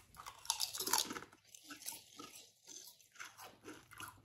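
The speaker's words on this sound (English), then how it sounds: "I like the crunch too." Rap Snacks barbecue cheddar potato chips are crunched and chewed close up, with a burst of loud brittle crackles followed by softer, irregular chewing.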